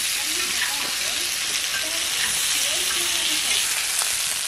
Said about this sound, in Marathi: चला चिकन फ्राय झालंय.